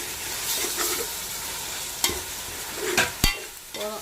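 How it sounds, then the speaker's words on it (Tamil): Ginger garlic paste is stirred in a large pot for beef biryani, a steady sizzle of frying under scraping strokes of a spoon, with a few sharp knocks against the metal pot. "150 கிராம் இஞ்சி பூண்டு பேஸ்ட். இந்த ஓரத்தையும் நல்லா கிளறணும்"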